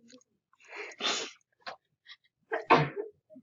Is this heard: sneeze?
yes